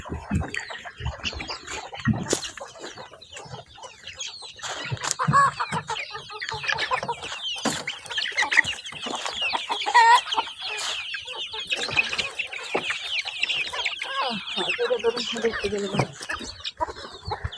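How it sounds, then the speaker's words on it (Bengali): Chickens on a riverside char farm in Faridpur, Bangladesh, clucking in a busy flock as they are let out of their coop, steady overlapping calls with people talking nearby. "এই যে মুরগি ছেড়ে দিচ্ছে"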